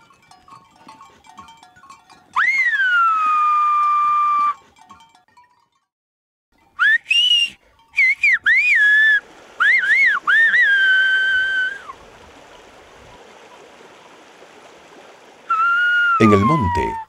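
Loud, clear Silbo Gomero whistled-language phrases on La Gomera, with rising and falling pitch glides, in separate bursts with pauses between, over faint outdoor forest background noise.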